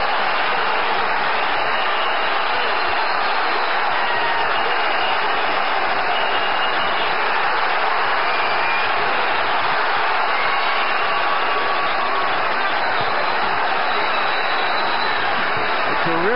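A pro-Trinidad boxing crowd roars during the Felix Trinidad vs William Joppy fight, a steady, dense arena din that holds at the same level throughout, with a commentator faintly under it.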